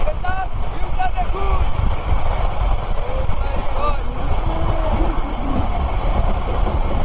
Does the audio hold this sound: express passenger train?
yes